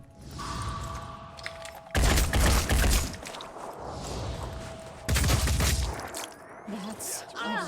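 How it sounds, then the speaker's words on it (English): Automatic gunfire in the Phoenix Point tactical game, two loud sustained bursts of rapid shots separated by quieter mechanical sounds and game ambience. "Opening fire."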